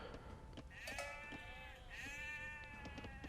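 Sheep bleat repeatedly in the Age of Empires 2 DE strategy game, a steady wavering series of game bleats that is clear but fairly quiet, with no talk over it.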